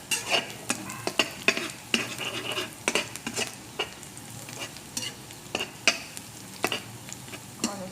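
Garlic frying in a pan, a steady oily sizzle close by with repeated metallic clinks and scrapes of a utensil stirring against the pan at an irregular rhythm, no talk.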